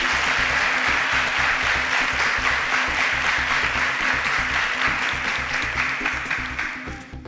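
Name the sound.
audience applause for contestants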